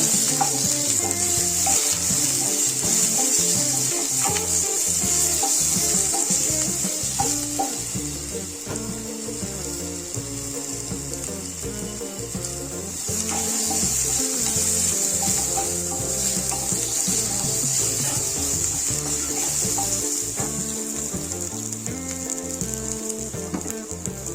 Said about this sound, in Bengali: পেঁয়াজটাকে দিয়ে দেবো, টমেটোটাকে দিয়ে দেবো, ভেজে নেব।